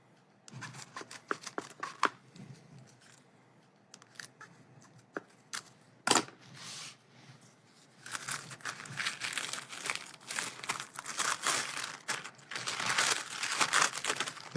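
Scissors snip and crinkle through a parchment paper cartouche for braised red wine short ribs, with sparse quiet cuts at first, then a denser stretch of rustling and crumpling, close and soft, with no talking.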